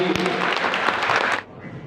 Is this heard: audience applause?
yes